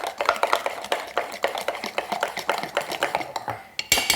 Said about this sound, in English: So we'll give all the wet ingredients a stir.